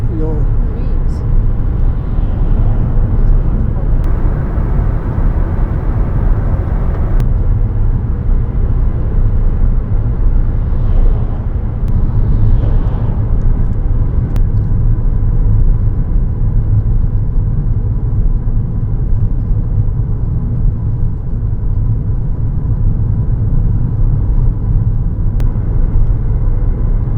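A truck rumbles close behind a car on a road near a border, a loud, steady low drone that persists throughout with no clear speech.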